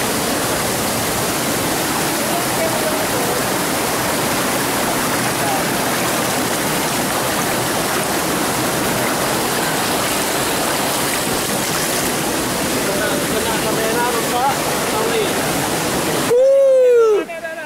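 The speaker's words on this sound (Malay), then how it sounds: "air terjun" Rushing waterfall at Trumon, a steady loud broadband roar of falling water filling the whole stretch before it cuts off abruptly near the end.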